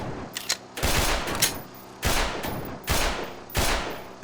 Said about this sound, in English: Doing a little shooting on the range.